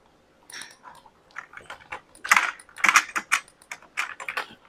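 AutoCAD commands typed on a computer keyboard: bursts of quick, crisp key clicks in irregular clusters, with a few louder taps like the Enter key, close and clear with no talk.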